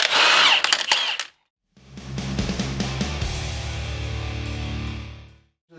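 An impact wrench loosens a reverse-threaded transmission nut on a big-wheel bagger motorcycle, a short whine and rattle followed after a pause by a longer hammering burst of rapid blows, close and loud.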